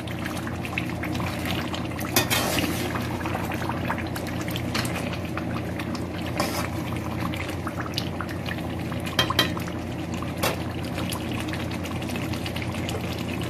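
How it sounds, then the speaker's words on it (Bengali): Hot water poured steadily into a pot of bone-in chicken curry with raw papaya, a continuous close liquid rush with a few brief clinks and splashes. "তো এখন আমার হাজবেন্ড দিয়ে দিচ্ছে পানি"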